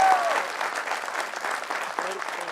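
A room full of people claps through an Atomy India felicitation ceremony, a steady loud patter of many hands with voices murmuring underneath throughout.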